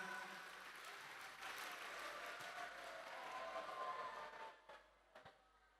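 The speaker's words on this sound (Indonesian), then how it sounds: "Boleh sekali lagi tepuk tangan untuk Kepala Sekolah tercinta kita." Applause for a school principal at a school assembly, steady and dense clapping from a crowd holding for several seconds before trailing off into a few scattered claps.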